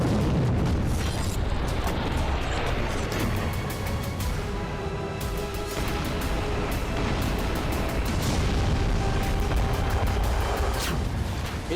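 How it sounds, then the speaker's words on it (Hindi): Blasts in war-torn Afghanistan come through as continuous, loud, distorted roaring booms, a thick wall of low rumble with no clear gaps between them. "वॉर जोन में तब्दील हो चुके पूरे अफगानिस्तान के चप्पे चप्पे में बारूदी धमाके हो रहे हैं।"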